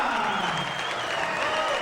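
Audience applause and cheering for a young man, Victor Mesa, at an event, a dense, loud burst of clapping with crowd noise filling the whole short stretch.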